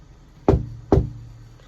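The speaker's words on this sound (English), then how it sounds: "A loud knock on the window." Two loud, sharp knocks on a window, about half a second apart, each ringing briefly into a quiet room before silence returns, with no voices.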